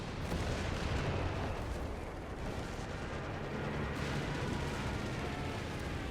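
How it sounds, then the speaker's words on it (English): An artillery barrage in the World War II strategy game Company of Heroes 3 rumbles as a dense, continuous roll of booming impacts and blasts, loud and unbroken for the whole stretch, with no voices over it. "Artillery's coming in to keep the Germans contained."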